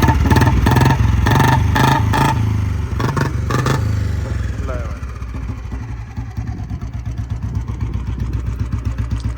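A Royal Enfield Bullet motorcycle engine revs close by in a series of throttle blips, then settles into a steady, rapid thumping idle. Voices may be talking over it.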